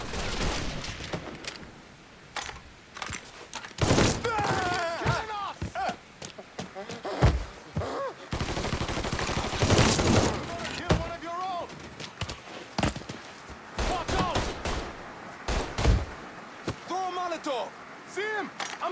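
Repeated bursts of gunfire in the video game Mafia 3, loud sharp shots and volleys in irregular clusters across the stretch, with shouted voices between them.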